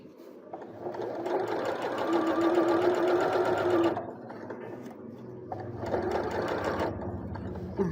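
Sewing machine stitching fabric for a trumpet-flower (bunga terompet) project, a steady close mechanical whir running for about four seconds, pausing briefly, then starting up again at a similar level.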